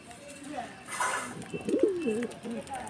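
A hand-held pigeon whose eye has turned red coos close by in a short run of low, warbling throaty notes, with brief pauses between the calls.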